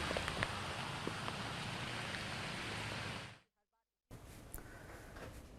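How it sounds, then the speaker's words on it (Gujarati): Heavy monsoon rain in Mumbai pours as a dense, steady roar that cuts out abruptly partway through, then returns slightly quieter after a brief silence. "તો મુંબઈમાં ભારે વરસાદ વરસી રહ્યો છે"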